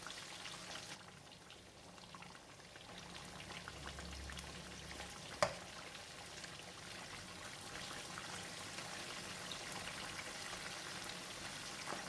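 Mackerel coated in chilli paste frying in a pan, a soft, even crackling sizzle that runs steadily throughout with one brief sharp tap partway, no voices.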